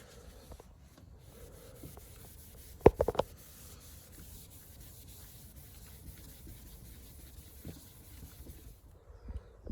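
A microfiber cloth is rubbed over black car paint during a touch-up scratch repair, giving soft, faint wiping strokes with a few sharper scuffs near the start and light rubbing continuing to the end.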